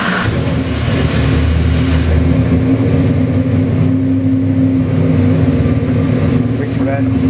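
A custom-built turnkey crate engine runs loud and close, its deep rumble easing from a rev into a steady, throbbing idle, with someone talking over it.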